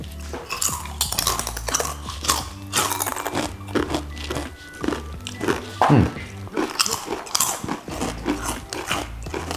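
Crunchy fried Tiger snacks bitten and chewed up close, with loud repeated crackling crunches in an irregular rhythm and occasional clinks of packaging or dishes, no voices.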